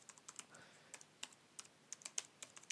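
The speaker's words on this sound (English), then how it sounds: "let me type here" Typing on a computer keyboard, a quiet run of irregular light key clicks with brief pauses, heard alone and close.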